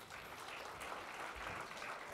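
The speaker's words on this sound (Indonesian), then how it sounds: "Kasih tepuk tangan untuk mereka." A church congregation applauds the worship musicians, a faint, steady wash of many hands clapping in a hall, continuous and distant, without clear voices over it.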